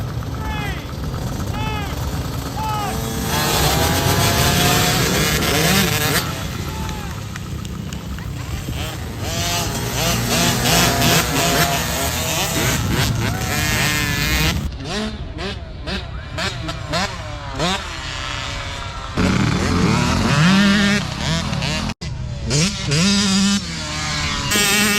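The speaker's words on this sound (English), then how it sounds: "let's have a look at Nicholas's first go on his YZ65." Yamaha YZ65 dirt bike ridden off-road by a child, its small engine buzzing and revving up and down over a berm, with a voice talking over it throughout.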